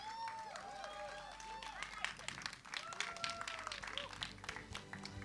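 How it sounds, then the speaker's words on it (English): A premiere audience applauds after the Dilwale trailer screening, scattered clapping rising from a crowd beneath an amplified voice and tonal sounds, fairly faint and diffuse throughout. "A big round of applause for the trailer"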